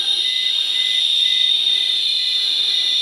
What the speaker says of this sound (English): my Polismart that I'm wearing for gamma radiation is going off also. I can hear the beeping.